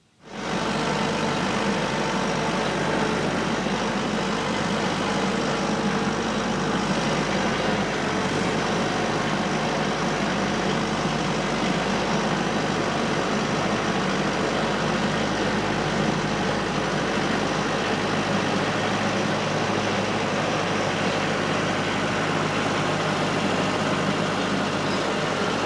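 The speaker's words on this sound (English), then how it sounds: "So I'm going to grab the tractor." A tractor engine runs steadily on a homestead with pigs, a loud, close, unbroken diesel-like rumble that starts abruptly and holds at an even level throughout.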